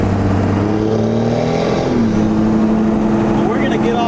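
A Cummins diesel mud truck drives along with a loud, steady engine drone that rises slightly in pitch as it shifts and accelerates, close and continuous throughout.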